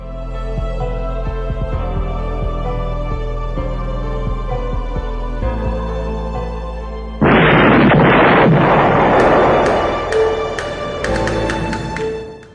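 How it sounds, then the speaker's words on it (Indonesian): Bombs exploding at night in Bali: a sustained low rumble gives way to a sudden loud, broadband blast that roars for several seconds with crackling bursts and pops trailing off. "Dua bom meledak dalam waktu yang hampir bersamaan, yaitu pukul 11 malam lewat 5 menit"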